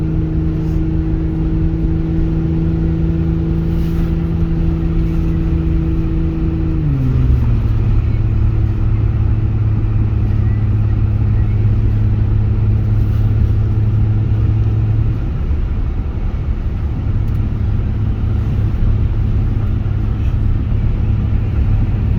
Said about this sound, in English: As I'm driving up the hill, it drives very well. It's got good power.